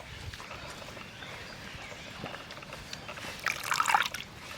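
Chopped potatoes are rinsed in water, with quiet splashing and trickling that swells into a brief louder slosh near the end.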